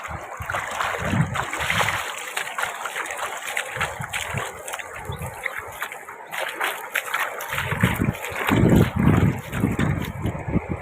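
Loud, continuous rush and splash of fast-moving floodwater near a bridge by Mokeshwar Dam near Ambaji, close by, surging unevenly, with occasional low rumbles beneath the churning flow.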